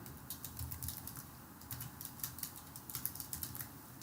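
Computer keyboard typing while an email address is entered during account sign-up, a steady run of quick light clicks close up over a soft room hiss, with no speech.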